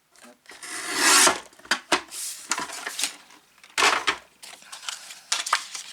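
Paper being trimmed with a guillotine cutter at a craft table for a Harry Potter pop-up album, giving a series of short, close scraping cuts and rasps with brief pauses between strokes.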